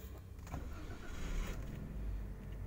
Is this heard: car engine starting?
yes